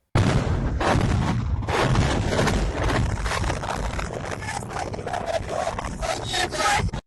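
A continuous barrage of booming blasts and crackling bursts, loud and dense throughout, either incoming explosions or anti-aircraft defence fire rolling without pause.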